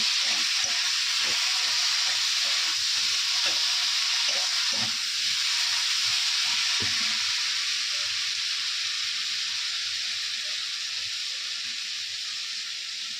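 Onions and curry frying in oil in a pan give a steady, loud sizzle with some steam hiss, broken by scattered clatters from stirring and gradually easing toward the end.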